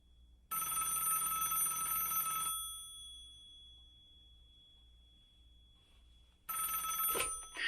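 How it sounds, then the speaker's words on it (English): A telephone rings during a live on-air call: one bright, clear burst of ringing, a quiet pause, then a second burst that starts the next ring. "Oh, here we are. It's ringing."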